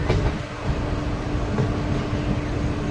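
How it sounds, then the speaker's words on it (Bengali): Mayurakshi Express passenger train rolling along a hilly Jharkhand line between Deoghar and Howrah, a steady loud rumble of wheels on rails with a continuous hum, heard from on board. "এখনও বেশ ভালোই যাচ্ছে ট্রেন"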